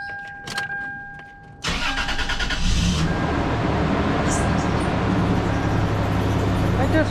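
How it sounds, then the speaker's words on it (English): A car engine cranks and catches after a brief pause, then settles into a steady, loud idle, heard up close during valve cover gasket, spark plug and plug wire replacement work. "I'm going to start up the vehicle"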